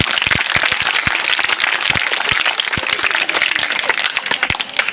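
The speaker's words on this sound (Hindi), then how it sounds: "ये ताली में दम नहीं है, और जोरदार बजाओ।" A crowd of students and guests at a government middle school award ceremony in Haryana honoring a 10th-grade topper claps loudly, with sharp individual claps standing out over a dense, uneven patter.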